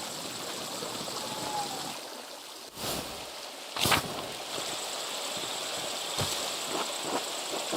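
Rushing waterfall and stream in the medieval game Pentiment, a steady broadband wash of falling water with a few brief louder splashes, continuous and fairly close.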